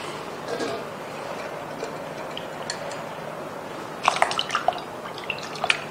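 Water drips and trickles from washed strawberries resting in a strainer, a soft wet background broken by a cluster of close, sharp drips and taps toward the end, with faint speech in places.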